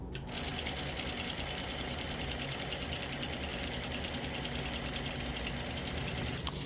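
A sewing machine quilting flowers on a huge quilt runs continuously at a fast, even rhythm, a close, steady mechanical whir and rattle without pauses or talk.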